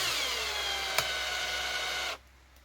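A power drill whirs steadily at close range for about two seconds while assembling the front end of a Losi 22S drag RC car, with one sharp tick partway through, then cuts off abruptly.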